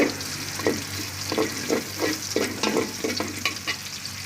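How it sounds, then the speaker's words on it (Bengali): Khichuri fries in a pan while a utensil stirs it in repeated scraping strokes, roughly one every half second, over a steady close sizzle, with no talking. "এভাবে ভালোভাবে নাড়াচাড়া করে নেবেন যতক্ষণ পর্যন্ত ব্রাউন কালার হয়ে না আসে"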